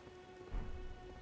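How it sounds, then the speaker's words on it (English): Rain falling in the video game Elden Ring, a soft continuous patter with a faint low rumble and a steady tone, quiet and alone. "It's raining now"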